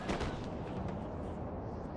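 Artillery cannon fire on a Napoleonic battlefield in Napoleon: Total War, a dense, continuous rumble of distant booms with no pauses, heavy and low throughout.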